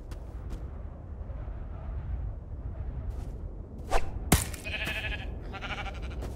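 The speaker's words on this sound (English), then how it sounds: "A sheep?" Sheep in Minecraft: Story Mode bleat a few times over a steady low game ambience, with a short whooshing burst partway through and no talking.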